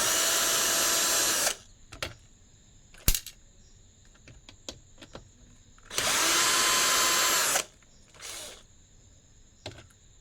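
A power screwdriver backing screws out of a DATOU BOSS 4000W pure sine wave inverter's circuit board whines in two loud, close bursts of about a second and a half each, with small clicks and handling knocks between them.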